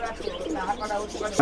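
Two pigeons kept for sale, a pair about 9–10 feathers old, give soft, close coos and murmurs that blend into a low warbling, ending with a brighter, sharper burst.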